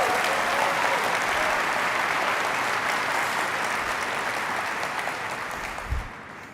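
A large keynote audience at AWS re:Invent 2023 applauding a string quartet, broad sustained clapping that slowly thins toward the end.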